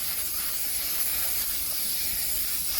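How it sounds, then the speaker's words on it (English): A steady, continuous hiss of cooking oil spray from an aerosol can, close and even in loudness, lasting the whole time without pause. "you're going to spray it down with your spray oil"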